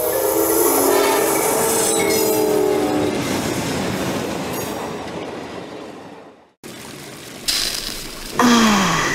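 A train rumbles past close by with rattling wheels and a blaring horn, then a sudden cut to more loud train noise and horn blasts.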